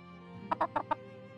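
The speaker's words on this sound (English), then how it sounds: "I got a chicken that's running away." A chicken clucks four times in quick succession in the video game Farthest Frontier, sharp and fairly close over a steady low ambient game background.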